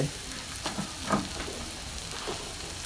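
Rat meat is dry-roasted in a pan with aromatics, producing a dense, even sizzle with a few soft stirring knocks, close and continuous throughout.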